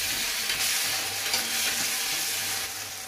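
Chopped tomatoes and well-browned onions fry in a pan for paneer and capsicum curry, a steady close sizzle with occasional scraping stirs throughout.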